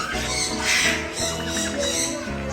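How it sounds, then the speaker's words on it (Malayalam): A turkey squawks loudly and close by in a harsh, continuous call that rises and falls. "ടർക്കി"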